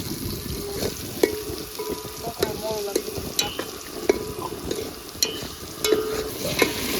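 Vegetables frying in oil in a pan while cooking out at sea, with a steady crackling sizzle broken by sharp clatters of a utensil stirring against the pan.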